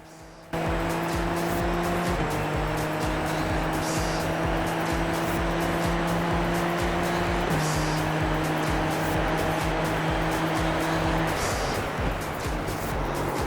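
Race cars in iRacing sweep through a corner, engines holding a steady droning pitch that steps down between gear changes, with tire noise underneath, loud and continuous throughout.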